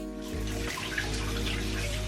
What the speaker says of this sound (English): Jumping right into the shower as directed, I'm just gonna drench my hair with some nice warm water.